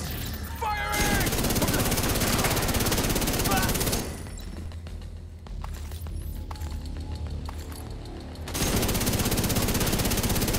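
Sustained automatic gunfire in the shooter game The Division 2, a dense, loud stream of rapid shots that thins briefly midway into scattered bursts and impacts, then resumes at full intensity.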